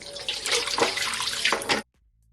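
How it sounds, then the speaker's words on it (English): Water pours steadily into a bowl of seasoned oxtail for about two seconds with splashing and gurgling, then stops abruptly, leaving silence. "so I'm just gonna add some more water"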